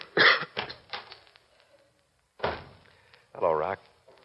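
Radio drama performers speak, then a deliberate staged cough breaks in near the end, short and throaty, from a Lux Radio Theater adaptation of the Knute Rockne football story.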